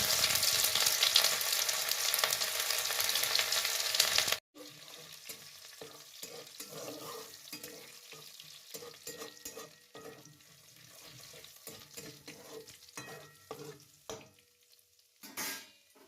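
Whole cumin and chopped ginger, added after cardamom, hit hot oil in a pan for moong dal and sizzle loudly and densely; the frying then drops to a softer crackle with scattered stirring scrapes and clinks.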